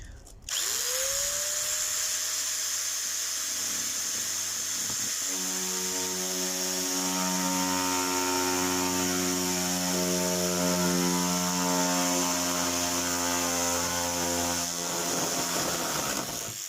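Electric sheet metal shears cut through sheet metal with a steady, loud, close motor whine that holds an even pitch for about sixteen seconds. The strain shifts slightly partway through, and no one speaks.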